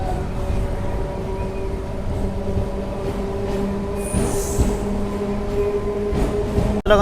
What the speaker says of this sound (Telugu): ట్రైన్ అయితే వచ్చేసింది